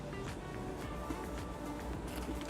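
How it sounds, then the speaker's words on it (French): An air-conditioning motor runs with a steady, unbroken hum and whoosh, its level constant from start to finish and no voices over it. "si vous entendez le bruit du moteur, c'est normal. La clim, elle fonctionne."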